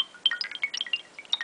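Broken Tone, a ringtone on a Nokia Lumia 625 phone, plays as a quick, bright run of scattered chiming and pinging notes, clear and close, lasting just over a second.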